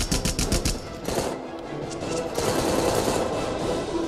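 Machine gun fire in the video game Rambo, rapid loud bursts of automatic gunfire with a quick rattling rhythm, broken by a short pause and then a sustained noisy stretch of battle.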